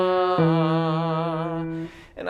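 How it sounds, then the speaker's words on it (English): A musical interval of a fifth sounds for singing practice: a lower sustained tone joined by a higher steady tone held together for about a second and a half, clear and alone. "This is the interval of a fifth."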